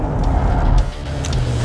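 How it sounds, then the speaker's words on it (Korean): Toyota Camry hybrid driven hard on the Inje Speedium race circuit, a steady loud low engine and road drone under acceleration, with a brief dip partway through. "하이브리드 차량, 캠리 차량을 지금 주행을 하고 있는데요"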